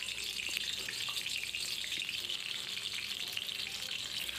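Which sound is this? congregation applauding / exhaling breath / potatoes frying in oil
potatoes frying in oil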